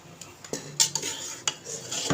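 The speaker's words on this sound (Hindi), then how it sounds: "अब इसे निकालते हैं, डिश आउट करते हैं" A metal spoon scrapes and clinks against a pot while aloo keema, a potato and minced meat curry, is served out. The knocks are close and sharp, a handful over two seconds, with no talking.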